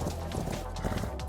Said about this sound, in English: I headed out on a horse to go for a little roam.